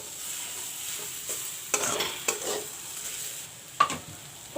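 Mashed peas and onions fry in a pan under a quiet sizzle, broken by several sharp scrapes of a spoon stirring the mixture, with no one speaking.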